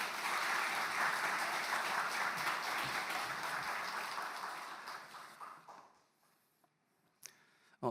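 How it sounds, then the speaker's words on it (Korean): A church congregation applauds during a Sunday worship service. The clapping is dense and steady, then fades out, leaving near silence with a couple of faint knocks. "하나님께 감사 박수 드리면서 우리 목사님 모시도록 하겠습니다"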